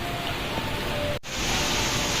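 Heavy rain pours steadily during Typhoon Christine, a dense continuous hiss with a brief dropout midway before resuming even louder.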